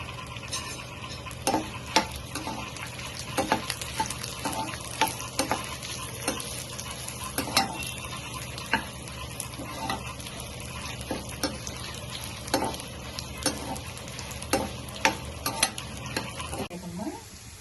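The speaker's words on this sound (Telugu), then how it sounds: "ఎండుమిరపకాయలు వేసుకున్నాం. కొంచెం ఆయిల్ వేసుకుని" Dried red chillies fry in a little oil in a pan. There is a low continuous sizzle with frequent scraping and stirring clicks, fairly quiet and alone.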